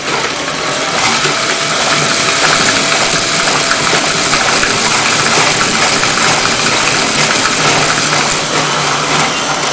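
A motorbike engine runs steadily, driving an axial flux alternator in a rebuilt green machine; a continuous loud mechanical drone with dense high-frequency whine holds from start to finish, no voices.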